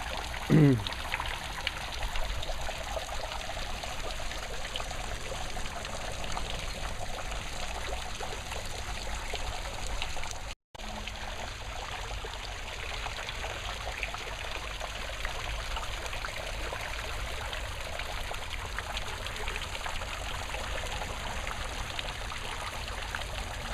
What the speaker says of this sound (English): We've got a leak.